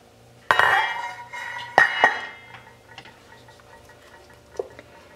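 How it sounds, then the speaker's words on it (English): Metal clanks and clinks as a lid is lifted off a cooking pot of stewed apples, two sharp close impacts followed by faint rattles and a quieter later tap. "I'll remove my lid."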